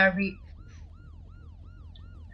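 An ambulance siren in a video game roleplay wails in a steady repeating rise-and-fall cycle at moderate distance, opening with a brief burst of louder noise before settling into the even siren pattern.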